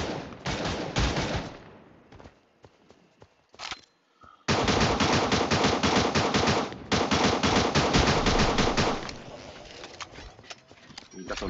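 Submachine gun fire rattles in the video game Cyber Hunter in loud, rapid bursts separated by short pauses, with scattered single shots in between.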